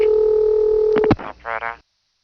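A step-by-step telephone exchange dial tone from St. Thomas, New Tripoli, Pennsylvania, 1976: a steady, pure hum for about a second, then clicks and a short buzzing pulse burst before the line goes silent.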